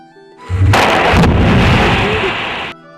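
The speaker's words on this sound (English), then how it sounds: "Now a blast in coal seam." A blast in the coal seam at an open cast coal mine: a sudden heavy boom followed by a sustained roaring rumble of breaking rock for about two seconds, loud and then cut off.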